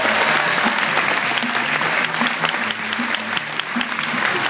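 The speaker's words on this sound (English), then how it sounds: "maybe a big round of applause for Cassie and Mark for Guinness World Records" A crowd claps in sustained, dense applause celebrating a Guinness World Record, loud and even from start to finish, with faint voices mixed in.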